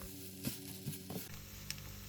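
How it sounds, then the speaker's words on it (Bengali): A spiced potato filling seasoned with salt fries in a pan with a soft, close sizzle, broken by a few light stirring scrapes and clinks over a low background hum. "আলুটাকে এখন ভালোভাবে ভেজে নিব যাতে মশলার কাঁচা গন্ধ চলে যায়"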